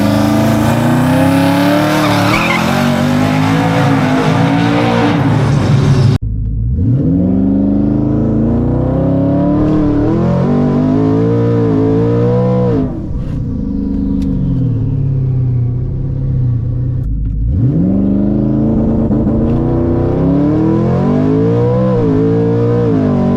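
A twin-turbo Ford F-150 pickup launches down a drag strip, its loud engine roaring and rising in pitch through several gear changes, with brief drops between shifts and no voices over it.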